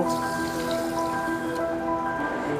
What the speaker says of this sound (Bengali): এবারে আমি এই বাটির মাপেই 2 বাটি জল আমি দিয়ে দেব।